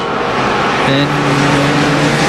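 NASCAR Nationwide race cars at Montreal's road course roar past in a loud, dense engine wash, with a rising engine tone coming in partway through, under excited commentary.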